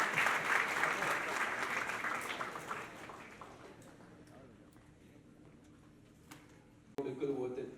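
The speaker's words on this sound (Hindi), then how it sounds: "ताली बजा दें।" Audience at a song launch event claps loudly at first, the applause thinning and fading over several seconds before a voice speaks near the end.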